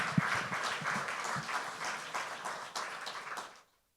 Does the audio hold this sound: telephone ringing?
no